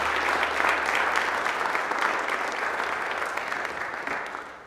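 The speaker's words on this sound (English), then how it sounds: "Wyatt Wiebe, and Wiley Wiebe another round of applause." Audience applause at an Eagle Scout Court of Honor ceremony, steady dense clapping from a room of people that holds for several seconds and then slowly fades.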